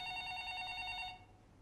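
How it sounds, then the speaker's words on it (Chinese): Telephone ringing indoors, a steady electronic bell tone that holds for about a second and then stops, moderately loud with no talking. "你听到她的电话响了"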